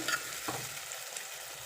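Onions frying in a pan for a chicken and fenugreek leaf dish, a brief soft steady sizzle with a light stir near the start.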